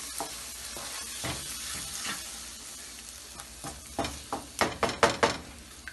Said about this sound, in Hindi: अब हम इसमें अंडे डालेंगे। और इसको चलाएंगे।